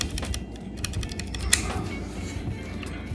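Typing on a Redragon Ashe Pro wireless RGB keyboard fitted with brown switches produces quick, fairly muted clicks and clacks in irregular bursts, close to the microphone.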